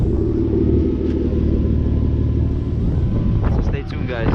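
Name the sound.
turbo Infiniti G37 car engine rumbling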